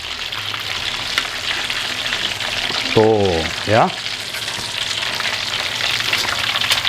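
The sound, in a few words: chicken katsu deep-frying in hot oil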